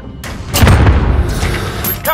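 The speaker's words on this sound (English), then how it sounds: "Grenade out." A grenade detonates in Call of Duty: Modern Warfare on the Azhir Cave map during a Domination match, a loud booming blast with rumbling low end. It is followed by scattered game noise and faint voice chatter.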